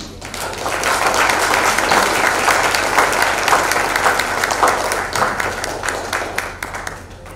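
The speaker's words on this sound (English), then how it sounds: "Roaring applause for everyone." Dense, roaring audience applause fills a live-streamed talk event as it closes, steady and loud throughout before thinning slightly near the end, with no speech over it.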